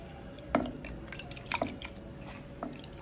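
Millet grains, coarsely ground, being rinsed in water in a kitchen: a few soft, close splashes and sloshes at spaced intervals, with light dripping and squishy wet sounds between them, no talking.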